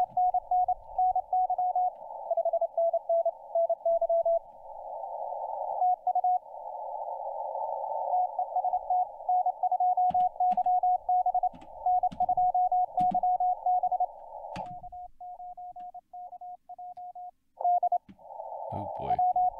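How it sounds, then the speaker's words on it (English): Amateur radio CW signal on the 160 m band sending a CQ call: a steady pure Morse tone keyed in rapid dots and dashes, loud and continuous, with occasional brief clicks and faint talk underneath. "It was like he was calling CQ, CQ."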